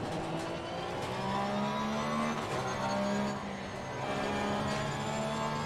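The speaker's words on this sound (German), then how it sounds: "Deswegen können wir da ja nochmal ein bisschen auf den 4 Liter 6-Zylinder Boxermotor hören." A 4-litre flat-six boxer engine races in Assetto Corsa Competizione, holding a steady, loud, droning roar with gently rising and falling pitch as the car accelerates through gears, heard alone without talk.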